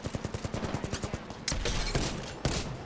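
Rapid automatic gunfire from the Apex Legends video game rattles in a fast burst, followed by heavier, louder shots and booming impacts, all dense and close with no talk.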